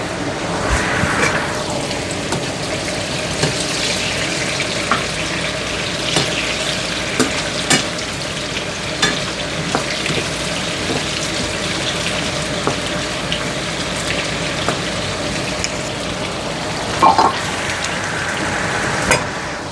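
African eggplants frying in hot oil, a continuous dense sizzle with occasional clinks and scrapes as the pieces are turned, steady and close throughout.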